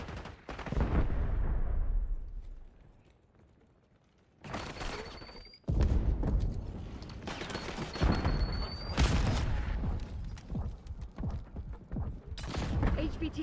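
Gunfire in Call of Duty: Black Ops 6, loud bursts and scattered shots from close range, stopping briefly before resuming in dense volleys over continuous game noise.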